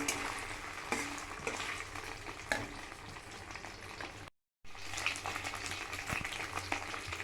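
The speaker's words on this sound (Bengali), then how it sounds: "কড়াতে পনিরগুলো দিয়ে দিয়েছি, এগুলোকে এবার ভালো করে একটু লাল লাল মতন ভাজা হয়ে গেলে কড়া থেকে তুলে ফেলবো।" Paneer cubes frying in a kadai over a high flame give a steady, close crackling sizzle with scattered sharp pops and light clinks, broken once by a brief silent gap midway.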